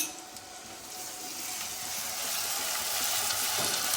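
Ginger garlic paste sizzles steadily in a hot pan, a dense crackling hiss that grows slightly louder over a few seconds, with no voices.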